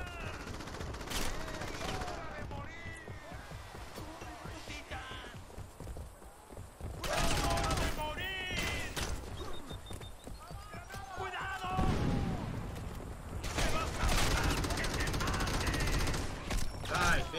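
Bursts of rapid gunfire in the video game Crackdown, repeated volleys and single shots under frequent excited talking, loud and dense in places.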